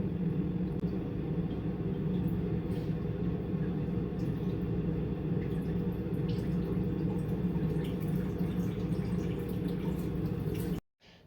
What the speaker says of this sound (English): you can hear the water when it starts draining out of the radiator through the plug